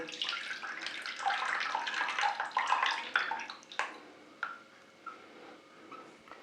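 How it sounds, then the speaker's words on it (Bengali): Tamarind soaked in plain cold water is strained, with a steady wet pouring and splashing that thins into a few separate drips near the end; no one speaks. "তেঁতুলটা ভিজিয়ে রেখেছিলাম নর্মাল ঠান্ডা জলে এইভাবে আমি ছেঁকে নিচ্ছি জলটা নিয়ে নেবো"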